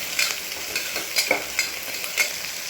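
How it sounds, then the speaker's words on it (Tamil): Capsicum biryani ingredients fry in hot oil with a soft continuous sizzle, broken by several light scraping stirs close by, no voices. "கொஞ்சம் நல்லா ஃப்ரை ஆகட்டும்."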